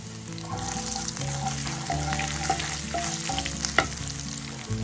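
Cumin seeds and Kashmiri chili powder fry in a pan, a steady close sizzle with stirring scrapes over a humming low background; no talk.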